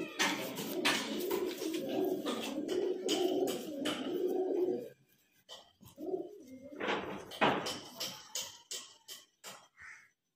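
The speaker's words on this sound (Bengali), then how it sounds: "এটা কিন্তু দেশি পায়রা, মুর্শিদাবাদি গ্রিবাজ লাইনের পায়রা।" Murshidabadi Giribaz pigeons coo close by, a run of low throaty coos followed by a pause and then further bursts of cooing and wing or feather rustles, with no one talking.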